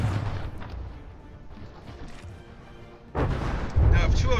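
Cannon shots in a From the Depths naval battle: a steady rumble of distant gunfire, then two loud, heavy booms in quick succession near the end, with a voice talking over the action.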